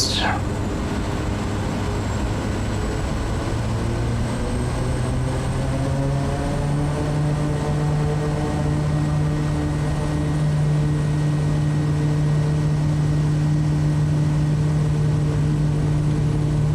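SWS Kodiak 100 propeller plane on its takeoff roll in Microsoft Flight Simulator, a loud, steady engine and prop drone whose pitch slowly climbs as power builds.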